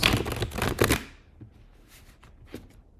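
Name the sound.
shuffling tarot cards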